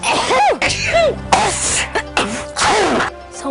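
Several loud human sneezes burst out one after another, each a sharp inhaled build-up followed by an explosive release, with short gaps between them and no talking.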